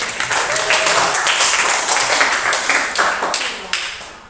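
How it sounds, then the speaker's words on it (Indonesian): A class claps for the group presentations, a loud, brisk patter of many hands that gradually thins out toward the end, with some voices mixed in. "Tepuk tangan untuk kita semua dulu."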